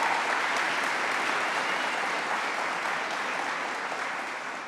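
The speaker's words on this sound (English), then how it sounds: "Let's give her a round of applause." A large audience at a New York State government event gives a sustained round of applause, dense and even, tapering slightly toward the end.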